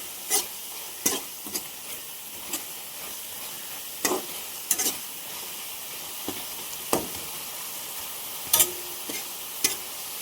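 Spicy homegrown mushroom masala fries in a pan, a steady sizzle broken by repeated sharp clacks and scrapes of a spoon stirring, close and fairly loud.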